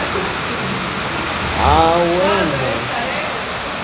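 Strongly flowing water rushes in a steady, loud, broadband wash close by, and a voice briefly speaks over it midway.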